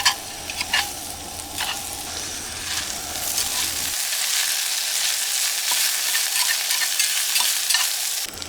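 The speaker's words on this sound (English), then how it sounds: "And then I'll stir it up, get it mixed up, get it heated up, and I'll put the plate back on and let it cook for a little longer" Meat fries with a bright, steady crackle in a pan at an outdoor Black Hills camp, with stirring scrapes at the start before the frying settles into an even hiss, close and with no voices.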